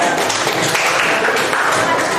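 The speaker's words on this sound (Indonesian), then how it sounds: "Tepuk tangan ya." An audience applauds in a classroom session, a dense continuous patter of clapping that fills the whole moment at close range.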